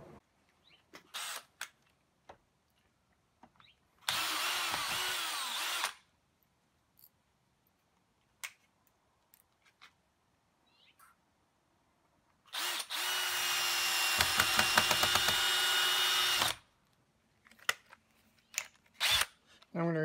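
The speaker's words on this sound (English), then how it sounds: "So I'm going to pull those 2 out and replace them with these 2 longer screws." A power screwdriver whirs in two bursts, a short one and then a longer one, as it pulls out and drives screws on a SimpliSafe smart lock keypad. Quiet clicks and handling noises fill the gaps between the bursts.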